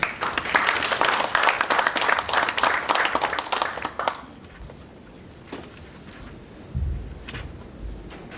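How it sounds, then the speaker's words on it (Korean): Enthusiastic applause at a political party committee launch ceremony, dense clapping for about four seconds that stops abruptly, followed by a quiet room with a few faint thumps and rustles. "뜨거운 박수를 모시겠습니다"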